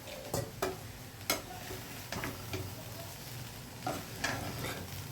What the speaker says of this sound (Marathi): अशा प्रकारे फ्राय करा मस्त